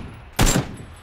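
A single sharp gunshot cracks out loud and close in the battle-royale video game PUBG, a short burst standing alone over quiet background game ambience.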